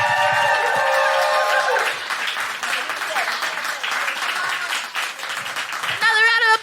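A comedy club audience applauds comedian Sikisa, steady clapping and some cheering that fills the room for several seconds before a voice cuts in near the end.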